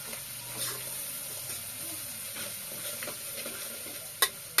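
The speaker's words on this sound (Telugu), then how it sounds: "అల్లం వెల్లుల్లి మొత్తం పచ్చి రాసుకున్న తర్వాత మంచిగా ఫ్రై చేసుకుంటున్నాను" Ginger garlic paste fries in a pan with green chillies, giving a steady soft sizzle with faint stirring scrapes and a brief louder clink near the end; no talking.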